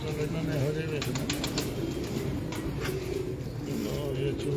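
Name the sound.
breeder pigeon, mouse-coloured, cooing and flapping wings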